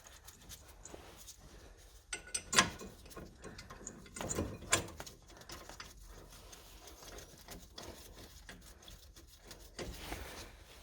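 A 1/2 inch ratchet with a Torx 55 bit clicks as it tightens the brake caliper bolts on a Citroen Berlingo Multispace, giving quiet irregular bursts of ratcheting with louder clusters partway through.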